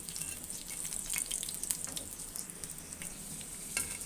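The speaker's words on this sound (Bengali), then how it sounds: "অন্য চুলায় আমি তাওয়া বসিয়ে সেখানে তেল দিয়ে মরিচ ভেজে নিচ্ছি।" Dried red chilies sizzle and fry in oil on a griddle, a steady close crackle with faint stirring and no talking.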